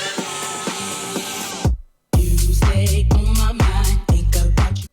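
A house track, a thumping four-on-the-floor kick with bright chopped synth chords after a brief dropout, played loud and alone.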